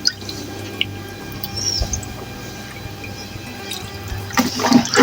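Leftover washing water from rinsing chicken and potatoes is poured away in a kitchen, a low steady trickle that swells into a louder splashing rush near the end.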